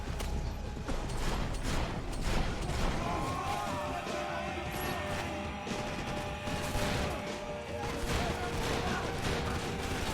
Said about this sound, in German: Vier Schüsse mit einer Schrotflinte